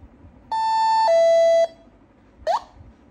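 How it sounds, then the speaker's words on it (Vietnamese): A Korean-made 12/24V alarm siren plays a short electronic melody of clean, steady tones, a long note stepping down to another, then a brief rising chirp, loud and close with no talk. "Cái bản nhạc này làm loa báo động anh em ạ."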